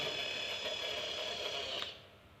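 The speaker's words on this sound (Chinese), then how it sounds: "我们在这个木板上打下孔，虽然它的转速呢有所下降，但是呢打孔的效果一点都不影响。" An AC 220V electric drill converted to run on DC power spins as it bores through a wooden board, a steady high motor whine that cuts off abruptly near the end.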